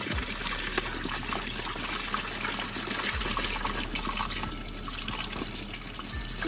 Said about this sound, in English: Our paint can or rinsing water and the brush, rinse them out together.